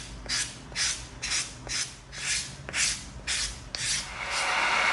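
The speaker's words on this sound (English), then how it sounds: "now we're going to come in with our 220, and we're going to hit the edges of these just to smooth them out" Hand sanding of EVA foam edges with 220 grit sandpaper: about eight rhythmic, soft scraping strokes, close and fairly quiet, ending in a longer continuous rub.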